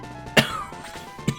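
A person gives a sharp cough and then a shorter throat clearing a moment later, close and fairly quiet, with only faint room noise between them.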